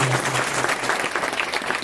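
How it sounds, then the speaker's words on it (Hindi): Hearty applause from an audience at a devotional gathering welcoming an Aghori baba, a dense, steady crackle of many hands clapping close and loud throughout. "एक बार जोरदार तालियों से इनके लिए स्वागत करेंगे आप लोग।"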